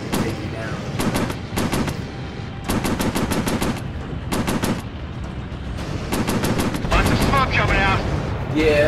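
Rapid bursts of aircraft machine-gun fire in a Pacific warplanes combat game, several rattling volleys in quick succession with short gaps between them, loud and close, while a voice talks over parts of the shooting.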